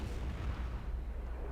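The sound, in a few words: explosions in the video game Jade Empire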